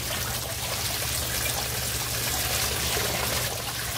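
Water runs steadily from a hose or tap to rinse aquarium filter media in a perforated basket, a continuous close splashing hiss with a low hum beneath it.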